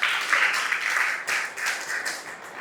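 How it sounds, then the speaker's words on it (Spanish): A church congregation gives a steady, full round of applause. Many hands clap together in a dense, close wash of sound that fades slightly toward the end. "Aplaudan como hombre."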